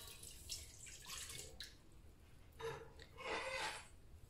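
Warm milk is poured into a mixer bowl over yeast, faint liquid splashes and trickles in short bursts, quiet and close, with no one speaking.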